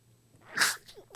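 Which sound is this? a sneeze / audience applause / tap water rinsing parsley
a sneeze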